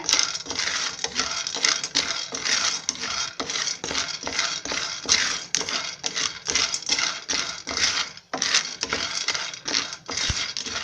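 Dry roasted gram (pottukadalai) rattles and scrapes against a metal pan, a dense continuous clatter with stirring strokes throughout, close and fairly loud, no voices.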